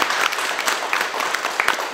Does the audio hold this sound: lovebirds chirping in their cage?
no